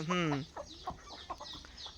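A rooster gives a short harsh call, followed by soft, scattered clucks from hens close by.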